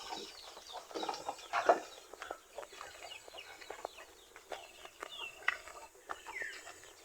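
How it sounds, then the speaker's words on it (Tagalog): Chickens on a backyard farm clucking in short, uneven bursts, with sharper calls scattered throughout, moderately near with faint outdoor ambience. "So ito naman yung mga manok natin na yan yung mga sisiw na dinala natin dito"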